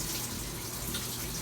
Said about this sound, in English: the hot water, cold water will run for roughly 45 seconds